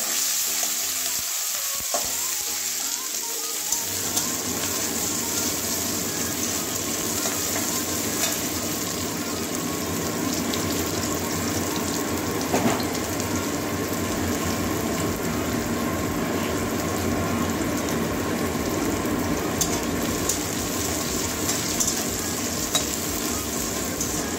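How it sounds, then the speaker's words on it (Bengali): Chopped onions frying in hot oil for a Bengali potato, eggplant and chickpea-greens dish, a steady loud sizzle with faint stirring that sets in after a brief quieter start and continues unbroken. "এবারে পেঁয়াজ কুচি দিয়ে দেবো। ভালো করে ভেজে নেব।"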